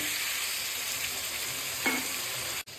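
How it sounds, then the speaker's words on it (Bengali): Tomato masala for a fish dish cooks in a pan with small splashes of water, giving a soft, steady sizzle close by with one brief stir partway through. "সমস্ত কিছু আবার ভালো করে নাড়বো, কষাবো। টমেটোটা একটু নরম নরম হোক"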